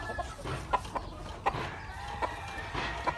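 Oriental-breed roosters and chickens cluck in short, repeated bursts at a moderate distance, spaced unevenly over a low background murmur.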